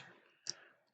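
A computer mouse gives a single sharp, close click in an otherwise quiet moment.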